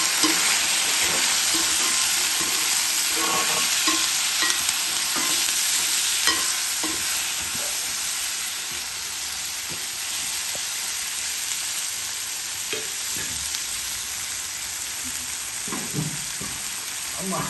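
Steady, dense sizzle of tomatoes and onions frying in hot oil in an iron pan, with scattered stirring clicks and pops throughout, loud and close, no talking.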